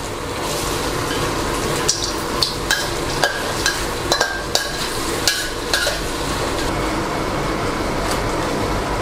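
Stir-frying sweet and sour sauce with diced bell peppers and cashew nuts in a pan, a steady sizzle with scattered scraping and knocking of a utensil, close and fairly loud, no talk.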